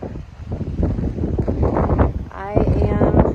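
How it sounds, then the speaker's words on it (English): Strong wind gusting across the summit of Mount Rogers on the Appalachian Trail in misty conditions, a loud continuous rush buffeting the microphone throughout, with speech-like bursts mixed in. "windy up here"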